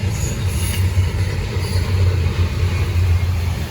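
Norfolk Southern freight train rolling past on the Charlotte District, with a steady loud rumble of wheels and cars and a continuous low drone, no voices.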